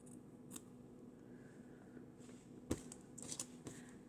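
Scissors trim the edge of a fabric hem, a few soft, quiet snips close by against a faint steady hum.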